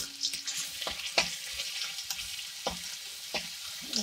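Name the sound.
garlic paste frying in oil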